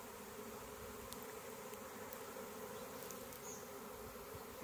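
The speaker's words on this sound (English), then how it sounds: "Usually they won't sting you when they're swarming." A swarm of bees hums steadily outdoors near a branch, a dense continuous buzz with individual insects droning past close by, even in level throughout with no talking.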